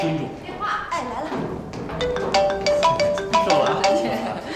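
A telephone ringtone, a repeating melodic tone over a few seconds with thumps and voices talking in the background.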